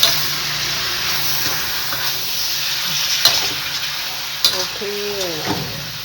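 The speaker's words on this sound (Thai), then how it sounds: "แล้วก็ผัดหอมมากเลย" Chinese kale being stir-fried in a pan, a steady sizzling hiss with a few clinks of a utensil against the pan, close and fairly loud, with a brief voice near the end.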